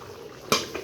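A single sharp metallic clack sounds up close as a lid comes down on a cooking pot of fish curry, followed by a faint softer knock.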